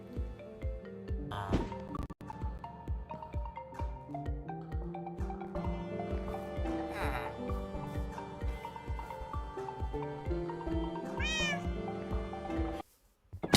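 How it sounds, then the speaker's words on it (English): A tamed cat meowing in modded Minecraft, several short meows rising over steady, busy game music and effects throughout, with a brief drop to near silence at the very end. "and was able to tame the cat."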